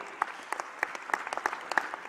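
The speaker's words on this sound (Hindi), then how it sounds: "ताली बजाओ तो दिल खोल के बजाओ, ऐसा लगे कि ताली बज रही।" A small crowd claps at a youth conclave in Indore. The claps come sparse and uneven, as scattered distinct strikes rather than a full ovation, and they are fairly quiet and close.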